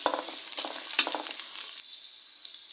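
Onion, spring onion and green pepper are stir-fried in oil for Nigerian fried rice, giving a steady close hiss of frying with bursts of stirring scrapes at first that fade to an even sizzle.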